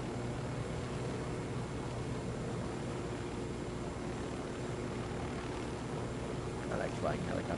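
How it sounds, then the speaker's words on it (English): A helicopter in Ghost Recon Wildlands on PS4 drones with a steady, continuous engine and rotor roar throughout, with a voice briefly talking near the end. "I like flying helicopters"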